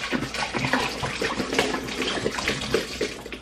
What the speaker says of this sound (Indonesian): Tapi kan ini ada airnya, jadi airnya kita buang dulu.